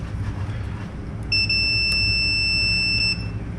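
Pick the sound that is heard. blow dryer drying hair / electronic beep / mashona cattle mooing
electronic beep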